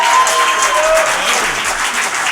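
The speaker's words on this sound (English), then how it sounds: "You can applaud for that." Studio audience applauding a band at a radio station's Studio C performance space, steady dense clapping held at an even, fairly loud level throughout, with a few faint voices mixed in.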